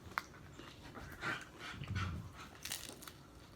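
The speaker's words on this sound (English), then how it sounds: "And my dog Princess won't stop barking." A pet dog indoors lets out a few scattered, faint barks and yelps at irregular intervals, heard from a distance in an otherwise quiet room.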